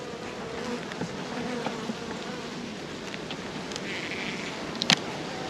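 Honey bees hum steadily around an open hive, a dense, even buzz close by, with a few brief clicks and knocks near the end.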